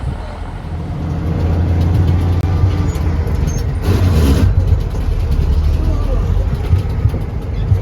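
A Transtar truck's engine drones loud and close from the cab as it shifts gears, a steady heavy rumble that swells and eases, while people talk over it.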